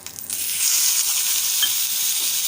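Two medium-sized cut tomatoes hitting a hot pan for a Mangalore-style tiffin dish: a steady, bright sizzle and hiss with soft stirring scrapes, close and continuous after a brief clattering start.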